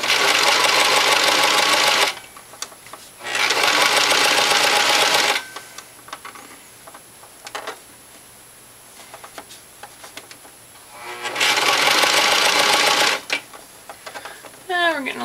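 Sewing machine sewing cuffs onto striped sock baby leggings, with several loud bursts of rapid stitching separated by pauses, and a person talking in between.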